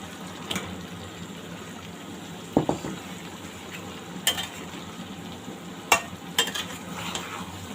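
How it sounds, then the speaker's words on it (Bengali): Fried round eggplant slices being stirred into a shrimp curry in a pan, a soft sizzle broken by several sharp scrapes and clatters of the spoon against the pan, no talk. "এখন এর মধ্যে আমি ভাজা বেগুনগুলো দিয়ে দিই"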